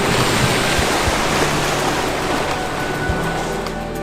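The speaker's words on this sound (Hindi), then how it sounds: "क्योंकि सालों बीत गए मुंबई में समंदर की ऐसी आवाज सुने।" Waves roll onto the Mumbai shore in an unbroken, fairly loud wash of surf with a little wind, near and steady throughout, no talking.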